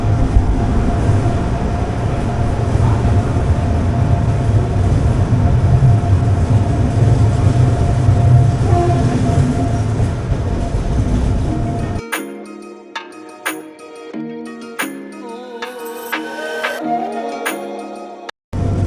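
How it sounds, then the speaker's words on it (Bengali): A double decker train pulls out of Erode Junction on the Coimbatore to Bangalore run. A loud, steady rumble of wheels and carriage noise fills the first two-thirds, then gives way to quieter, clattering, intermittent sounds. "ইদোর জংশন থেকে ট্রেন ছেড়ে দিল"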